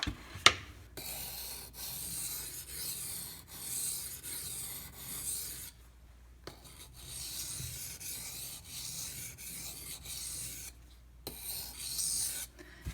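A knife blade drawn in repeated finishing strokes across a 600 grit water stone, a steady wet rasping rub that runs in long passes separated by brief pauses, close and moderately loud with no talking.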